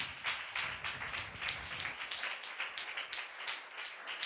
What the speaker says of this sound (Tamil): நல்லா கைத்தட்டி ஆண்டவருக்கு நன்றி சொல்லுங்களேன்.